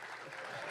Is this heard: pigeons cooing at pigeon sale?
no